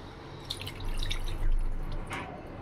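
Water drips and splashes lightly from a tap as hands are rinsed in a home kitchen during cooking, a soft irregular patter close by with no talk.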